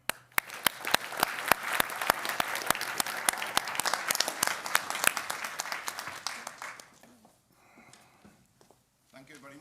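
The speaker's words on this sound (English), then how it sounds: "Please join me in giving a very warm applause to Professor Derek Aver." Audience applause at a conference on Russian policy, greeting a professor arriving to give the keynote. Dense, steady clapping holds for about seven seconds, then thins out and fades.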